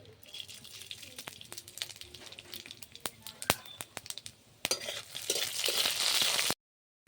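Chilies, bay leaf and panch phoron drop into hot oil in a pan for Bengali shukto, with scattered sharp clinks and crackles that swell into a steady bright sizzle before cutting off abruptly.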